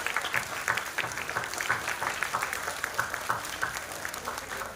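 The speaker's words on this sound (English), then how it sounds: "I think these children, they deserve huge round of applause from all of us." An audience at a school's Rabindra Jayanti special assembly applauds the children, a dense, steady wash of many hands clapping continuously at moderate volume with no voices on top.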